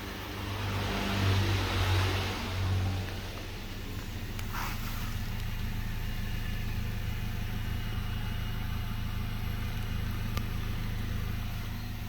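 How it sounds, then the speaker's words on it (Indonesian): A used car's engine idles smoothly and quietly at a used-car dealer, a low, even hum that runs steadily for the whole stretch with only a slight swell near the start. "Untuk mesinnya sendiri hampir tak terdengar suaranya."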